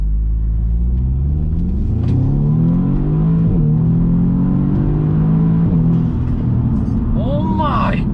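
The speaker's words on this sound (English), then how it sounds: "That sounds actually pretty crazy for an intake from a stock airbox just to an air filter." Modified Audi engine with an aftermarket air intake replacing the stock airbox, revving loud and close in rising and falling sweeps with a deep rumble and intake roar, ending in a quick rev blip.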